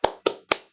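Three sharp, evenly spaced hand claps close by, beating out the tepuk Al-Fatihah rhythm in a quiet classroom.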